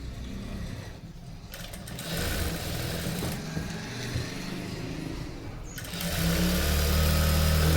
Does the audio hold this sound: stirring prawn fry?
no